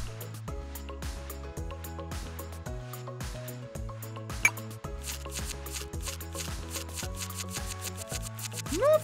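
Soft, rapid scrubbing and squishing from soaping up Tango the puppy in a tub in a Sesame Street pet-care video game, playing steadily under a bright, looping musical background.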